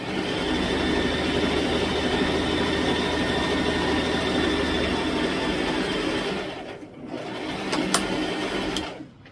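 A sewing machine stitches dress fabric in a fast, steady whirring run close by, then stops abruptly, leaving quiet with a few small mechanical clicks.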